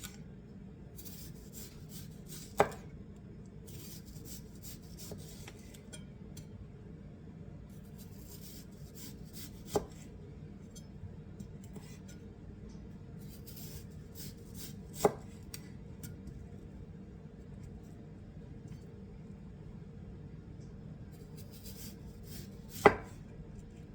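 A knife cuts eggplant into thin rings on a board, a few sharp chops spaced several seconds apart over a low steady background.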